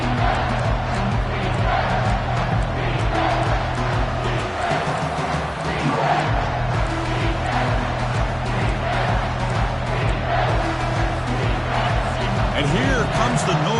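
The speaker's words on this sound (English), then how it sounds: "This crowd is trying to inspire this defense to make a big red zone stop." A college football stadium crowd at Tennessee vs Auburn roars continuously to urge the defense toward a red zone stop, a dense, loud wall of cheering that swells and holds throughout.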